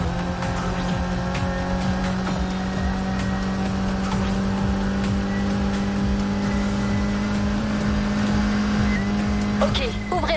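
Race cars in the video game NFS Heat roar continuously with a steady engine drone, tire noise and occasional clicks, loud throughout with voices talking over them.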